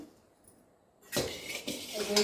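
Puffed rice is stirred and heated in a kadhai on a gas stove. After a second of near silence, a close, scraping rustle of grains against metal starts and continues with uneven clinks.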